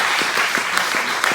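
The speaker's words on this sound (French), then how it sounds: "On peut applaudir le Seigneur." A church congregation applauds during a homily, a continuous, fairly loud wash of many hands clapping with distinct nearby claps standing out.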